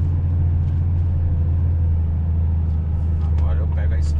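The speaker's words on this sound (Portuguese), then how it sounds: "Nesse momento que você tá usando a cavalaria toda do caminhão" A heavy truck engine labours under full power, a loud, steady low drone filling the whole stretch with constant rumble, recorded close from inside the cab.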